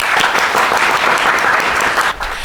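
A studio audience on a television talk show gives warm, continuous applause to welcome a legislator and his son, a close, dense burst of clapping that thins slightly near the end.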